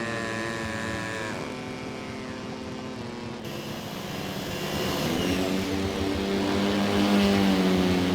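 A steady, droning propeller engine of a model Cap airplane in a flight simulator hums continuously, rising slightly in loudness toward the end, with a synthetic, game-like tone and no voices.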